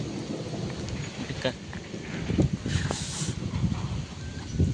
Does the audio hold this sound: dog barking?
no